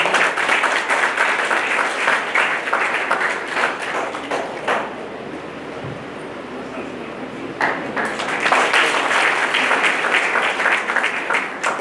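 Audience applause welcoming a guest at a startup awareness program in Aurangabad, Bihar: loud, dense clapping that thins briefly midway, then swells again, with a voice speaking over it.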